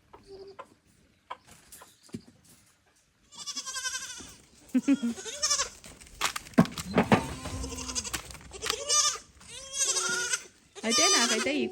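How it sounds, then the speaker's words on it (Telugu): Short-statured goats on a farm bleat loudly and close by, several overlapping calls following one another in quick succession after a quiet start. "పొట్టి మేకలు చాలా బెస్ట్ అనిపిస్తుంది అనమాట"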